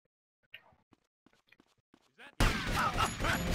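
Police gunfire in GTA Vice City erupts as a dense, loud burst of rapid shots after a stretch of quiet, faint sounds, continuing steadily to the end.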